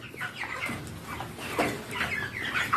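Thirty-five-day-old broiler chickens in a poultry house cluck and murmur softly together, a close, continuous flock chatter with scattered short calls.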